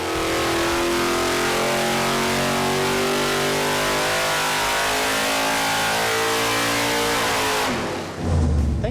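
A small-block V8 engine on a dyno revs hard in one loud, sustained pull held at steady RPM for about eight seconds, then drops off abruptly into a lower rumble.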